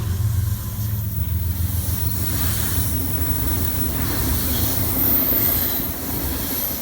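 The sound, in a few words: freight train passing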